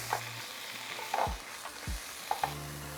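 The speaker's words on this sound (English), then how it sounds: "we start to add in the sauce. Just enough to cover the scampi." Squid ink sauce sizzling with scampi in a hot wok, with a steady frying hiss, a few stirring scrapes and light clinks close by.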